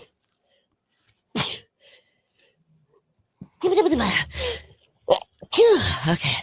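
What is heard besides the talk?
sneeze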